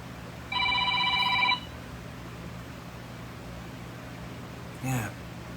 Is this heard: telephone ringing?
yes